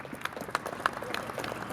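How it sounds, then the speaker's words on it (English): Applause from a press-conference audience, fairly faint and thin, with scattered claps over a low room murmur for a brief moment. "Can I give him a round of applause one more time?"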